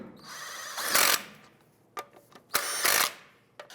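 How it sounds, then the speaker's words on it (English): Lug nuts being snugged onto a 2003-2012 Chevy Colorado front wheel with a power tool: two loud, close bursts of whirring drilling, each with a short tap beforehand and faint clicks between, with no talking. "Let's go ahead and snug down the lug nuts."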